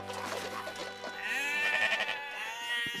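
Sheep bleating in a Fisher Price Little People kids' cartoon: a drawn-out wavering bleat rises over a soft musical background and fades, close and moderately loud, with no talking.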